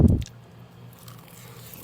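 A close, loud crunchy bite into grilled pork belly wrapped in nori, recorded ASMR style, followed by faint, soft chewing.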